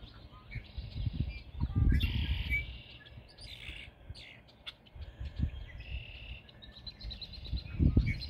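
Songbirds in a spring nature setting call with bright, repeated chirps and short trills, moderately close, over a low rumbling outdoor background.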